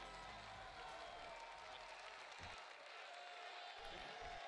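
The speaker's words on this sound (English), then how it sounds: "And the crowd goes wild." A crowd at the Xbox E3 2018 conference cheers and applauds in a sustained, distant wash of clapping mixed with voices, heard faintly.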